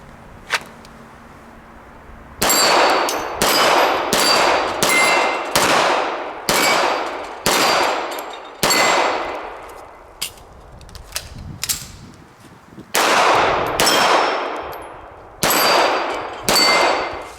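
Pistol shots from a SIG Legion fitted with a GrayGuns trigger ring out against steel targets: about a dozen sharp reports in quick strings, each followed by a bright metallic clang and decaying ring, loud and close.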